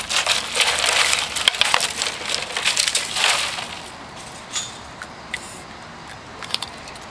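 A dog crunches chunks of ice at a dog park. Dense, close crushing and chewing fills the first few seconds, then thins out into sparse, scattered crunches.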